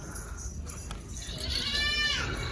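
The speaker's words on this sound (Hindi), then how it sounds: "रहीम यार ख़ान बीतल ब्रीड है जी, और तकरीबन इसका 3 मन के करीब वज़न है और 6 दांत का ये बकरा है।" A Beetle breed buck goat of the Rahim Yar Khan type, about six teeth and heavy-bodied, gives a rising bleat near the end of a short stretch of farm background noise, no talk heard.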